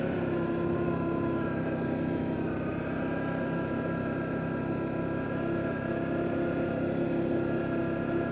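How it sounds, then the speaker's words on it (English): Arctic Cat Diesel 700 tracked vehicle engine running at a steady smooth idle, a continuous low droning hum with even tonal bands, close and constant with no talk. "It's a smooth sounding engine for sure."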